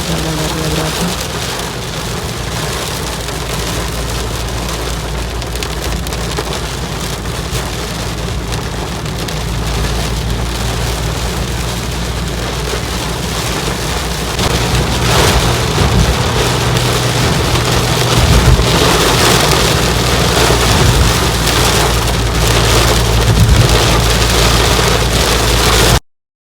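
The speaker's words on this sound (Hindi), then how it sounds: "मतलब इतनी भयंकर बारिश हो रही है ना कि मुझे बहुत ज़्यादा डर लग रहा था।" Heavy monsoon-style rain pours down steadily, a dense close hiss of drops on surfaces that swells louder about halfway through and cuts off abruptly at the end.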